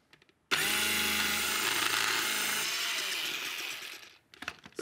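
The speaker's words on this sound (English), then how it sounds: "So we are letting the food processor do all the work." A food processor with a coarse shredding disc grates carrots, starting abruptly with a loud whirring motor and rattling chatter that holds steady, then winds down and stops, followed by a few clinks.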